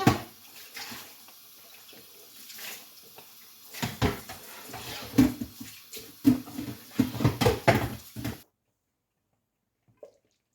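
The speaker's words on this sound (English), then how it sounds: "So I'm going to be covering the pot and allowing it to boil for like 5 to 7 minutes" Clattering of a metal pot and lid as a cooking pot of carrot bean stew is covered, several sharp knocks and scrapes close up, then silence.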